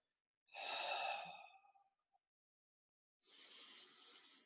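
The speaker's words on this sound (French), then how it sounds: "Légère phase abdominale de respiration." Two slow, deep breaths during an abdominal breathing exercise, one long airy exhale that tapers off, then after a pause a softer, steady breath, close and quiet with nothing else around.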